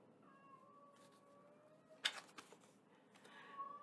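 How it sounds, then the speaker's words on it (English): A cat yells a drawn-out, wavering meow, quiet and somewhat distant, followed by a sharp clattering noise and another shorter cry near the end. "Sorry if you can hear the cat yelling."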